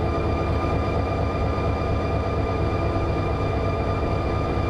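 Freight train locomotive in the Run 8 simulator game rumbling loudly and steadily throughout, a dense continuous engine drone with sustained tonal hum, close and unbroken.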